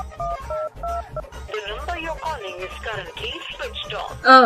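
Telephone keypad dialing tones ring out as a quick, even run of short beeps, followed by a person speaking over the line and a louder burst at the end.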